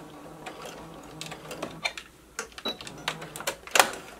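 A sewing machine back stitches at the end of a seam on an exposed ruffle tier for a dress or skirt, giving short bursts of close mechanical ticking and whirring that build toward a sharp final clack.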